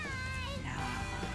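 A cat meows in the Life is Strange video game, a short, wavering, high call that bends downward, heard close with voices talking over it.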